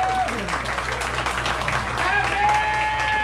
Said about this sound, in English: Give Pat a great big round of applause right there, would you?